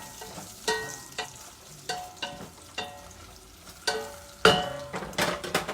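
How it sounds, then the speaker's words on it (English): Bacon frying on high heat in a pan, with a steady sizzle broken by about a dozen sharp utensil scrapes and clacks at an uneven rhythm, close and clear with no talking. "So I got the heat cranked up to about 8, so I can get this bacon to hurry up and cook"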